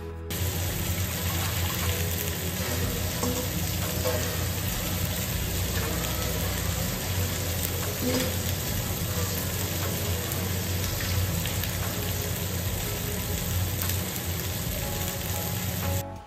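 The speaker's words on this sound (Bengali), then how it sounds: "তেলের মধ্যে আদাটা একটু ভাজা ভাজা করে নেওয়ার পর না যে কাঁকরোল কেটে রেখেছিলাম সেটা দিয়ে দিলাম" Teasel gourd fries with ginger in hot oil in a pan, a continuous, even sizzle that stays close and steady for the whole stretch with no talking.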